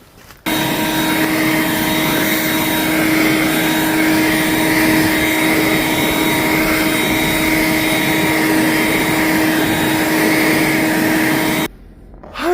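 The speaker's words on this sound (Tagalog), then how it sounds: "Buti na lang may mga gamit tayo, nakakatulong sa atin tong blower" A snow blower clearing snow runs as a loud, steady, close engine roar for about eleven seconds without a break, then cuts off abruptly.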